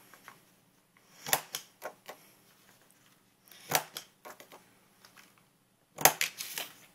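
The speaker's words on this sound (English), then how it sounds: "So I'm going to use my paper punch, and I'm going to curve out the edges" Paper punch rounding the corners of card paper: sharp, close crunching clicks come in three clusters, each a loud snap followed by softer rustles and handling sounds, quiet in between.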